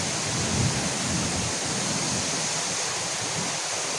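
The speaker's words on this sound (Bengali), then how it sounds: "অনেক বৃষ্টি, ঝড় হচ্ছে।" A village is drenched by heavy rain during a storm in the Jyoishtho month, producing a steady, dense roar with a faint low rumble underneath, and no voices.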